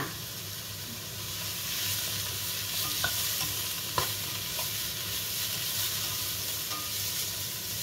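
Tofu fried rice is stirred in a pan over a constant close frying hiss, with a few faint clicks of the spoon against the pan and no speech.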